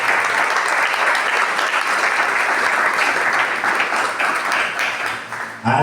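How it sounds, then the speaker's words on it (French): A church audience gives loud, sustained applause for Dominique Savio, with dense clapping that holds steady for several seconds before it tapers off. "Est-ce qu'on peut acclamer pour Dominique Savio?"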